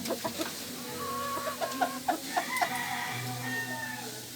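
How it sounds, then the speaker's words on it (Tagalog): Backyard pet laying hens cluck in a series of short, close calls, some in quick succession, over a quiet rural background with a low hum. "Alaga kong manok."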